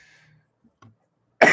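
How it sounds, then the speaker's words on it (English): A single abrupt, loud cough bursts out at the very end after a near-silent stretch with faint breaths and small mouth sounds. "I'm still coughing."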